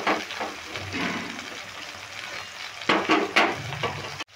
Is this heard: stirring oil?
yes